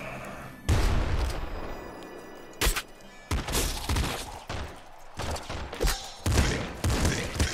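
Shotgun blasts in the video game Nuclear Throne boom repeatedly at uneven intervals, each a sharp, loud burst followed by brief clatter and quieter gaps.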